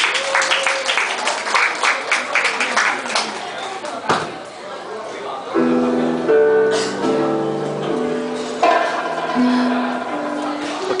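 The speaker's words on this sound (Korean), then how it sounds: "박수로 맞이해 주세요" Audience applause at a wedding ceremony as a song performance is welcomed, dense clapping that thins out and gives way to instrumental music starting midway, with voices mixed in.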